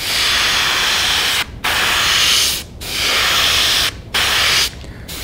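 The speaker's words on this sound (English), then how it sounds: "I want to paint the belly from the back of the bait up to the hook hanger" Bursts of spray paint hiss steadily onto the belly of a fishing lure being painted in a Fire Hot Gill pattern, with four short breaks between long continuous sprays, loud and close with no speech.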